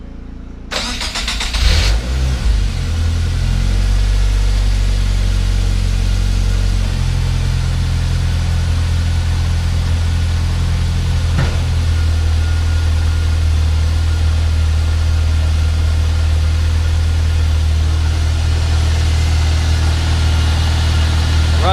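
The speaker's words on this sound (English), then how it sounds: "I'm going to start up the car to test it out." A Nissan B13 Sentra with a newly installed 340 LPH fuel pump cranks briefly, fires and settles into a loud, steady idle, heard close and continuous with no talking.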